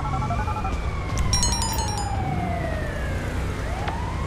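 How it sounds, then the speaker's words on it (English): An ambulance siren in the video game GTA 5 wails and sweeps up and down over a steady vehicle rumble, with brief electronic beeps in the middle. "What is ambulance coming down here?"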